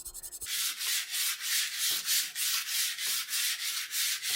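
Metal surfaces of a Marlin 1881 lever-action rifle are sanded by hand in steady back-and-forth rasping strokes, about two per second, close up and with no talking.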